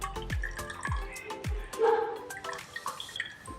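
Excess water drains and drips from freshly churned homemade butter made from eight-day-old cream, giving several distinct drops and splashes, then a short trickle, heard close up.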